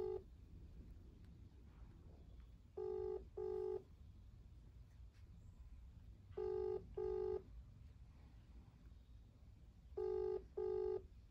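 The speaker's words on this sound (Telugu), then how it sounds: "ఒకసారి కాల్ చేద్దాం ఇందిరా గారికి, విషెస్ చెప్దాం." A telephone call rings out, with three spaced pairs of electronic ringback tones repeating at a steady rhythm, clear and fairly loud over a quiet background hum, no talking.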